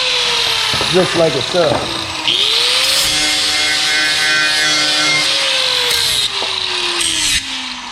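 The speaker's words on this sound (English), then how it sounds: "You want to grind off the material." An angle grinder grinds off material with a steady, loud whine that shifts slightly in pitch over several seconds and then stops. A brief stretch of speech comes just before it starts.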